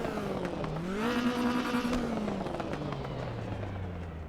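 A race car in Assetto Corsa with a big-bore exhaust, engine note climbing through revs then dropping as it settles, loud and close with crackling exhaust pops and no talk.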